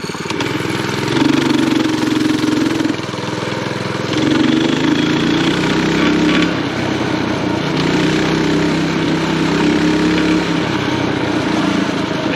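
A Coleman CT100U mini bike with a swapped-in Predator 212 engine runs steadily nearby, a loud, buzzy small-engine drone whose pitch rises and falls several times as the throttle is worked.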